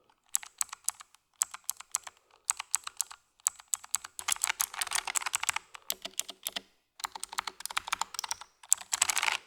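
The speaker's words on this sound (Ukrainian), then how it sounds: "Оснащена типом Blue, тобто тактильним, з відчутним і гучним кліком" Crisp, loud clicking of a Bloody optical mechanical keyboard with tactile blue switches, typed in quick bursts with short pauses between, close up and alone.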